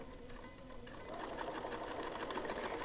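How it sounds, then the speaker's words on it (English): A sewing machine stitches quilt half square triangles, its motor starting slow and faint, then speeding into a steady, quick, close whirring hum. "Okay, so I take it to the machine."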